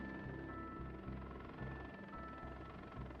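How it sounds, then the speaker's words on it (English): Distant helicopter in The Drifter, a faint, steady rotor thump pulsing in a regular rhythm over a low engine drone, with a thin high whine running through, no talk. "off to the left is what looks like a helicopter"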